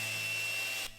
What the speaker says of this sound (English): I'm going to use my Rotex, which is much quicker and more powerful than the regular sander that I've been using.